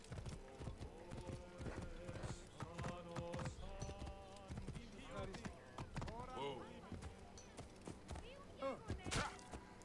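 Horse hooves clip-clop in Assassin's Creed Origins, a steady trotting rhythm under game character voices and a player's talk, with a brief whinny.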